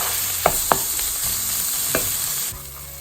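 Spinach and potato curry (saag aloo) sizzles steadily in a pan, with two or three sharp utensil scrapes early on and another near the end, then the frying quiets slightly; no one speaks.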